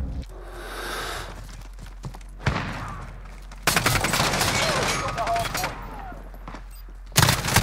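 Call of Duty Mobile gunfire on the Hardhat map, bursts of rapid automatic shots and scattered single reports in a multiplayer match, loud and close with footsteps between the bursts.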